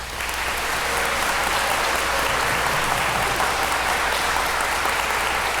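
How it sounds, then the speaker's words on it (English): Sustained round of applause from an audience at a university awards ceremony, a dense, steady wash of many hands clapping at full volume without a break and no voices on top. "could we all give her a big round of applause now?"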